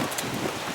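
Wind gusts outdoors in the aftermath of a hailstorm and thunderstorm, a brief, steady broadband rush of air buffeting the microphone, fairly loud and close with no voices.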